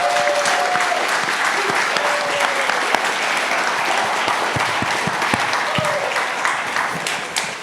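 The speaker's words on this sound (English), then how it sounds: "can I get a round of applause for our panel here?" A crowd at a design talk on AI applauds its panel with thick, continuous clapping that holds strong for several seconds before easing slightly, a few sharp individual claps popping out near the end.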